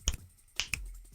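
Three sharp finger snaps, two close together and then a third, crisp and near in an otherwise quiet setting, with no talking.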